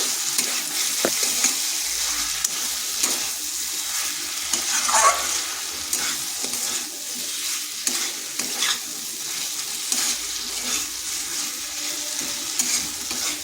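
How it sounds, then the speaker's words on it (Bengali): Potatoes and green plantain sizzle and fry steadily in a spice paste in a pan while a utensil stirs and scrapes now and then, close up, with no talking. "এটাকে বেশ কিছুক্ষণ এইভাবে কষে নিতে হবে"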